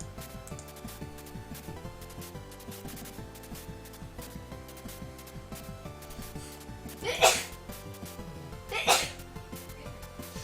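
Two sharp sneezes, a second or so apart, cut through quiet background music during a puzzle game development livestream.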